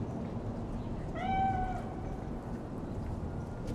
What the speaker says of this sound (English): It is a cat spirit.